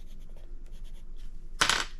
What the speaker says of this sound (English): They are just louder, the Koh-I-Noor pencils, against the paper than the Polychromos.